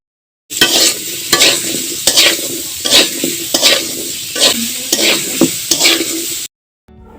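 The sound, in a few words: stirring potatoes frying in oil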